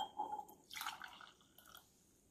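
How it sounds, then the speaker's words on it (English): Espresso shot from a Keurig K-Cafe with a reusable K-Cup poured into a glass: a brief, soft liquid splash and drip lasting about two seconds, quiet and close with no talking. "so we're gonna pour it into a glass"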